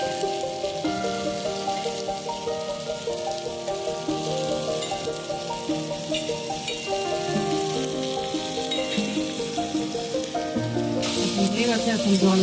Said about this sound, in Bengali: দেখেন ভালো করে এটাকে ফ্রাই করা হয়েছে